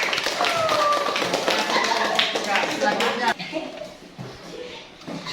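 Classroom applause for a student group, a close burst of many hands clapping that thins out partway through, with a person speaking over it.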